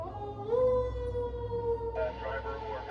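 A fire engine siren wails as the truck heads out to a fire, a rising tone that settles into a sustained howl at moderate distance, with a second siren pattern joining near the end.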